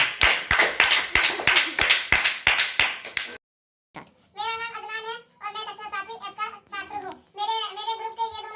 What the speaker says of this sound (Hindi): चलो ताली बजाओ।